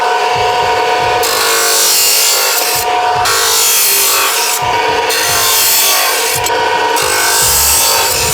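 A saw set to one length cuts metal tubes one after another, a loud continuous rasping grind broken by short pauses between cuts, close up, with no talk.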